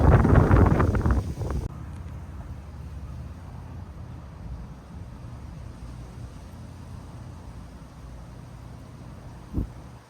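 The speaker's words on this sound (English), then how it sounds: "Again, the wind." Wind gusts outdoors at an RV resort in the Florida Keys, buffeting the microphone loudly for the first second or two, then easing into a steady, quieter rush with a brief bump near the end.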